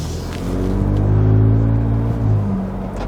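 A 2021 vehicle fitted with an AWE Tuning single rear exit exhaust and bash guard drives past in a loud, close, swelling low rumble, rising and easing again over a few seconds with no talking.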